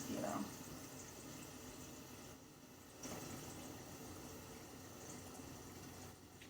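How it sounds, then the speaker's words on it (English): Steady rushing of water filling a kettle, a continuous hiss with slight level changes, fairly quiet and close. "So our kettle is being full."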